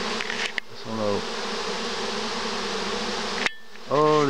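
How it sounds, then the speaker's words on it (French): A small swarm of honeybees clustered outdoors after leaving a box: a steady, dense buzzing hum, with louder individual bees flying close by near the start and end. "Oh les abeilles."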